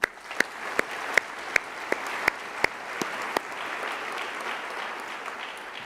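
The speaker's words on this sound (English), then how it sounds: "Let's give them a round of applause." Audience at a dentistry school commencement ceremony applauding in a steady, sustained round of clapping, with a few sharp louder claps standing out regularly near the microphone.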